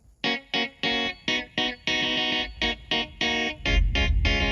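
The Evolution Strawberry virtual electric guitar plays choppy strummed chord stabs in short bursts with gaps, then a longer sustained chord, bright and somewhat thin, with low thumps toward the end and no talking.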